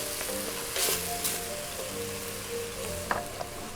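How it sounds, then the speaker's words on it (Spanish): Garlic goes into onions already sautéing in a pan, giving a steady soft sizzle with a brief louder burst and a few small clicks. The sound is close but fairly quiet, over a faint hum. "Una vez pasados los 3 minutos de sofreír la cebolla, vamos a colocar el ajo."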